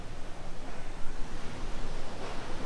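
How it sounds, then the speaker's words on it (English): A waterfall in Bali gives a steady, even rush of falling water, a soft broadband roar heard alone from some distance. "It's a waterfall."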